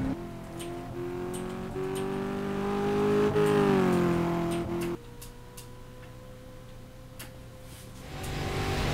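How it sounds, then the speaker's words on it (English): A Brazilian stock car V8 engine in the video game Game Stock Car 2012 revs and shifts, its droning whine rising then dropping, with sharp exhaust pops and ticks scattered throughout; no voices. "You can hear a pop from the exhaust there"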